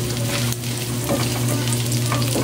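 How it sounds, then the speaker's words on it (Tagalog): Onions frying in a pan with garlic for a bangus milkfish dish, a steady close sizzle with faint stirring scrapes throughout. "ilagay na natin ang ating sibuyas"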